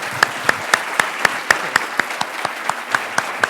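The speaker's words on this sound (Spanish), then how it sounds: "ruego a todos ustedes se sirvan recibir con un aplauso a nuestro ponente" Sparse applause greets a speaker at a talk, coming as crisp, evenly spaced claps about four per second. The clapping is moderately loud and heard alone.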